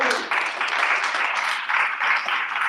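An audience claps after an Arabic poetry reading at a freethinking society event, a short dense burst of applause that stays steady and close for a few seconds.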